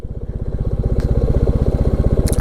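A motorcycle rolls slowly along a wet road in the rain with its fog light on, its engine chugging in a steady low pulse close by and holding an even, moderately loud rhythm throughout.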